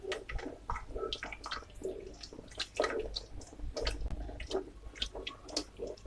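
Thick, creamy Jamaican breakfast cornmeal porridge being stirred in a pot, giving wet sloshing and squelching strokes in an uneven but steady rhythm, close by with no talking.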